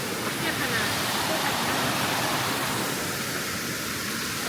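A waterfall in Chaiyaphum, Thailand roars steadily with a broad, constant hiss of rushing water close by, unbroken throughout.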